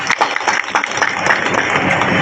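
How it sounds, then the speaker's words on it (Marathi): A short burst of loud applause from a gathered crowd for the MP at a road inauguration event, dense clapping that holds steady to the end. "एकदा जोरदार टाळ्या झाल्या पाहिजेत"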